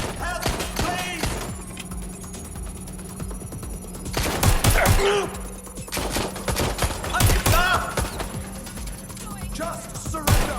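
Video game gunfire from Watch Dogs Legion, with repeated bursts of loud, sharp shots in rapid, uneven volleys, a heavy fusillade that swells in the second half while voices call out between shots.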